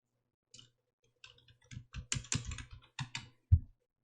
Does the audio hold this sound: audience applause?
no